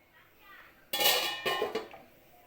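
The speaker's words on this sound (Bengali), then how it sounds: "এবার চাপা দিয়ে দেব" A lid clatters onto a metal cooking pot of pea pulao, a sharp metallic clank followed by a second softer knock and rattle as it settles, close and brief after quiet talk.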